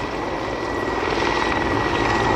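An Mi-24 combat helicopter flying at the Gdynia Aerobaltic air show, its twin-engine roar and rotor thrum loud and steady throughout.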